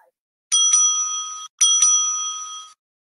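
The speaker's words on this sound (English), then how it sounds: "At the end of the 8 minutes, the bell will be rung twice" A small hand bell at an English debate competition rings twice, two bright metallic rings each sustained about a second, close and clear against silence.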